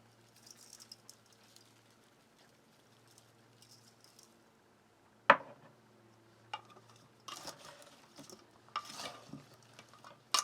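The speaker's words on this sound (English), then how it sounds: "stir it so we can get a nice good coating of that seasoning all over it" Seasoning being stirred onto stuffed peppers in a bowl, with soft scraping and patter, then a sharp utensil knock followed by bursts of louder stirring and clinks near the end.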